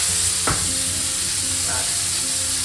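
Steak with butter sizzles loudly in a cast iron pan, a steady hissing fry throughout with a brief clatter near the start and no talking.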